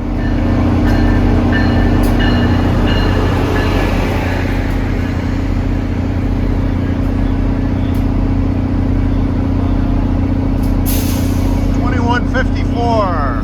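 Loud, steady rumble of a Metro-North express train hauled by a GP40PH3 locomotive, heard from on board on a run from New Haven to Grand Central, with continuous rail and engine drone and a brief high screech near the end.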